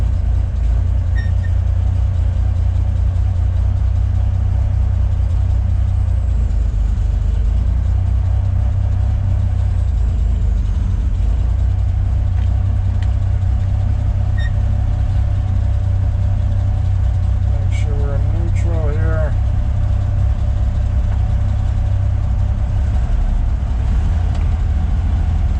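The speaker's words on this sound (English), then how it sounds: "Go ahead and start this up. Vehicle starts right up." A 1953 Chevy 3100 five-window pickup idles steadily at close range with a low, even rumble throughout, alone with no talking.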